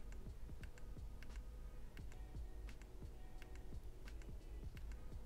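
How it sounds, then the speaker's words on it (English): The power button on an iPhone 13 Pro fitted with an Encased Thin Armor case is pressed over and over, giving a series of faint, crisp clicks at a steady pace over quiet background noise. "The power button's pretty clicky"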